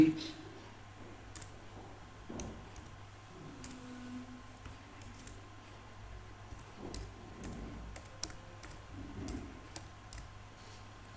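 An email address typed on a computer keyboard, a scattered sequence of light key clicks, close but quiet, with a low steady hum and a voice speaking intermittently.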